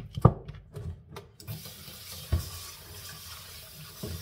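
Running tap water splashing over raw meat in a sink, faint and close, with a few sharper knocks and splashes as the meat is handled, then a steady flow.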